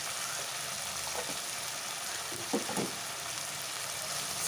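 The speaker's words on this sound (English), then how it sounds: "we'll leave it on for a while till the tomatoes, nicely fry up and become soft and mushy" Mutton keema with tomatoes frying in a pan gives a steady, even sizzle throughout, with a few soft stirring scrapes midway.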